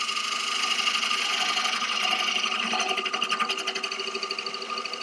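A bowl gouge cuts wood on a lathe with its bevel riding the surface, giving a steady close whirring hiss that takes on a rhythmic pulsing toward the end.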